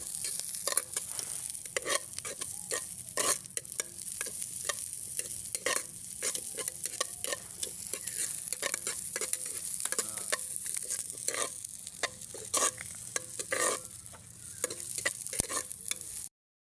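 A metal utensil scrapes and clatters against a cooking pot in a steady stirring rhythm, over a constant background sizzle of frying, before papaya is added to a coconut milk dish.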